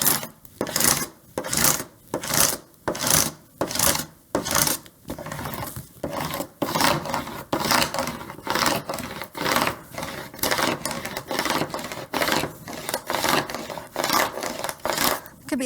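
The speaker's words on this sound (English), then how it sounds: "So I'll do that just by kind of scraping back and forth." A scraper tool burnishes vinyl onto transfer tape for a welcome sign, rasping back and forth in quick rhythmic strokes, loud and close, with steady repeated scraping bursts throughout.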